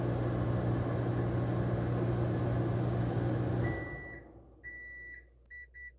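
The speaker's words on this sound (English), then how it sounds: "Microwave. 30-second intervals." A microwave oven hums steadily, then the motor cuts off and a series of short electronic beeps sounds in the quiet.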